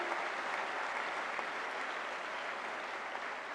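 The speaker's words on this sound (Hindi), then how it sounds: "मैं चाहूंगी कि एक बार जोरदार तालियों से" Loud, sustained applause from an audience welcoming a guest at a Delhi government event for newly appointed nursing officers, an even, dense roar of clapping throughout.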